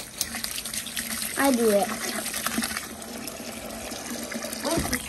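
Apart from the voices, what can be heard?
water running from tap into bucket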